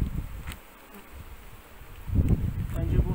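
Honey bees at a long hive give a low, steady buzz, with loud rustles and handling noises up close and brief louder swells of buzzing near the end.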